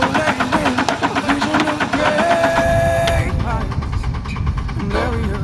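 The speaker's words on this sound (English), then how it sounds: "We eventually got the tractor running" A ranch tractor in deep snow cranks and struggles to start with rhythmic, rough mechanical chugging up close, then shifts to a lower rumble, with voices talking alongside.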